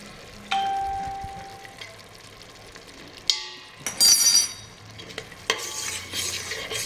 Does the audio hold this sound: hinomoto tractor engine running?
no